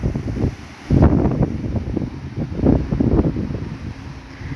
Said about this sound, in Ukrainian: Диви, що робить цей вітер.